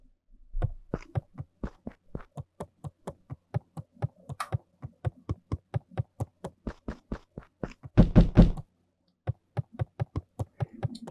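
Steady knocking at a door in the video game Beacon Pines, a long run of evenly spaced close taps with a brief denser burst near the end before the knocks resume.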